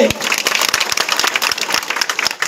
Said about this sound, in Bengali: তাদের জন্য হাততালি দেন জোরে।